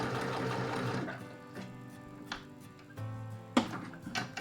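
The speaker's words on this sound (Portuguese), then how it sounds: "Eu estou a costurar com linha branca para que se possa ver também na imagem" A sewing machine stitches fabric with white thread while sewing bias binding, its motor humming steadily at first, then stopping and restarting in short bursts with small mechanical clicks; no one speaks.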